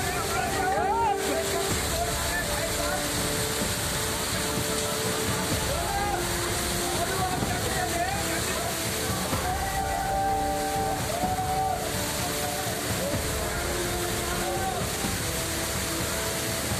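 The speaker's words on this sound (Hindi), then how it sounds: "मसूरी के कैंपटी फॉल का ये रौद्र रूप दिखा रहा है" Kempty Falls in Mussoorie, swollen by heavy rain, roars in a continuous dense torrent, loud and unbroken throughout.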